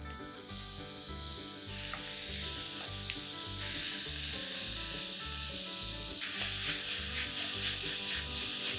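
Softened, lightly browned onions and four chopped tomatoes sizzle in a pan for a vegetable chilli milli, a steady close hiss that swells louder partway through with no talk.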